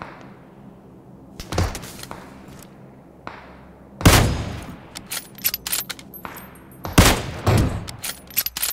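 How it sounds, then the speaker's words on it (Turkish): AWM sniper rifle in PUBG Mobile: a few sharp, loud, isolated gunshots with echoing tails, spaced seconds apart, plus lighter scattered shots and clicks in between. "AVM ile vurdu bir de beni."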